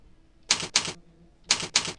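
Typing a command on a computer keyboard at a MySQL prompt: two pairs of sharp, loud keystroke bursts, close and distinct, separated by a short pause, with no talking.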